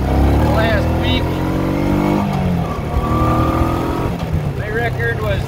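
A Honda PC800 motorcycle ridden along, its engine humming steadily with rising and falling revs, while someone talks throughout.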